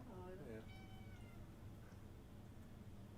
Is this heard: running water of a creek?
no